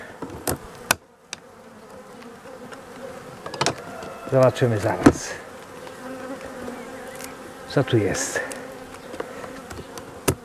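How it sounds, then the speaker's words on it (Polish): A steady buzz of agitated honeybees at an opened hive in hot weather hums throughout, with a few louder close passes and brief bursts of handling noise and a short spoken remark. "pszczoły się zaniepokoiły moją wizytą przy takiej temperaturze"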